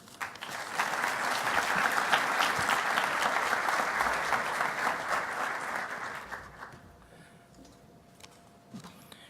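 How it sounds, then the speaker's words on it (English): Conference audience applauding at a plenary session, a dense, sustained wave of clapping that swells early, holds for several seconds, then fades to scattered claps and quiet. "Let's give State Farm and Javier another round of applause"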